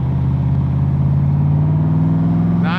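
Stroker engine in a 1965 Shelby Cobra Backdraft roadster revs with a loud, close, deep rumble, pitch climbing steadily over a few seconds with no talking.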